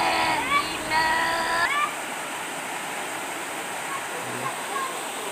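The Lalawgon waterfall pours water from high rocks in a steady, broad rush, while a person's voice speaks over it at the start.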